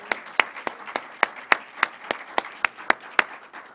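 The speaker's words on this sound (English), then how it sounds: "let us give you a round of applause" Clapping at a university press conference introducing a new president: about a dozen sharp claps in a slow, even rhythm, close and distinct, over a quiet room background.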